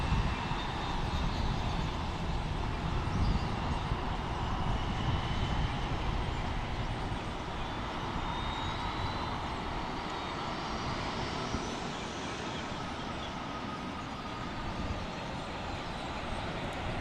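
A Southwest airliner taxis to the gate at Fort Lauderdale International Airport after landing, its jet engines giving a steady, rumbling whine with a broad roar underneath, continuous and moderately distant, with no talk.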